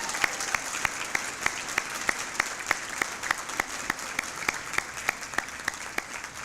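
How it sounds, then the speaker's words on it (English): Audience applause for a jazz band at an award ceremony, a steady wash of clapping with sharp individual claps standing out in an even rhythm, sustained and fairly close. "I want to ask for a round of applause for the Y-Pass Jazz Band"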